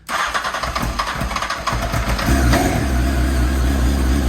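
A restored Honda CBR929RR Fireblade motorcycle engine cranks with rapid sputtering bursts, starting a little rough, then catches and settles into a loud, rumbling idle up close.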